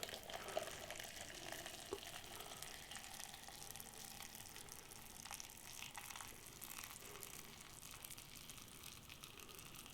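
Hot water pouring into an instant rice noodle pot, steady watery pouring and splashing, broadband and continuous, close by with no talking.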